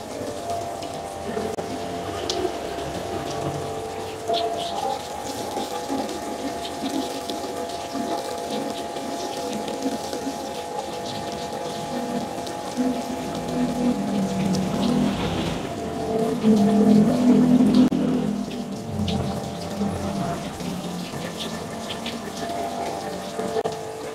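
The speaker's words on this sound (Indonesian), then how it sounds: "Saya akan coba siram apakah bocor," Water from a hose is sprayed onto a light steel roof to simulate rain, making a continuous rushing patter that swells midway, moderately loud and steady throughout.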